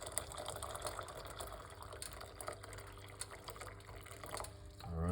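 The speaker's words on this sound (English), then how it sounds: "We're gonna put 1 cup of hot water" Hot water is poured into a pot, a continuous faint splashing fill with a soft gurgle, heard alone close by at low level.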